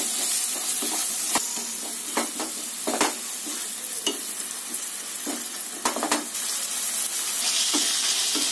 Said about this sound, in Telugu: ఇందులో అల్లం వెల్లుల్లి పేస్ట్ వేసి పచ్చివాసన పోయేంత వరకు వేయించుకోవాలి.